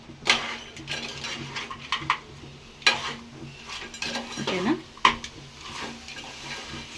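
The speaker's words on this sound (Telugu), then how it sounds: "పీతలను అయితే వేస్తున్నాను ఇట్లా కలిపిస్తాను" Godavari crabs being stirred in a cooking pot, giving intermittent clinks and scrapes of utensil on metal over a low background, with a few sharper knocks spaced across the stretch.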